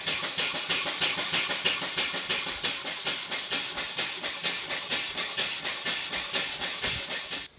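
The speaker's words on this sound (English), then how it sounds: "this engine runs really nice and complex there but it runs better again on steam" A small marine steam engine chuffs steadily on steam with rapid, even exhaust beats and a constant hiss of steam, close and loud with no talking.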